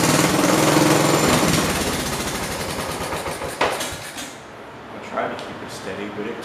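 Old engine on a 1968 110 garden tractor, sitting unused for five years, running rough and loud with a choppy mechanical clatter that eases to a lower, uneven idle; people talk over it.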